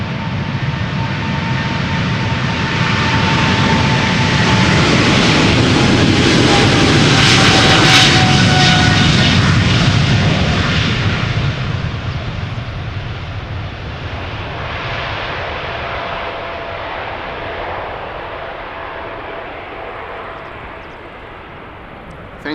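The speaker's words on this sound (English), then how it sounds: "this is a 777-300 going to Nairobi" KLM Boeing 777-300 jet taking off at Amsterdam Schiphol, a loud, close engine roar that builds to a peak and then slowly fades as the aircraft climbs away.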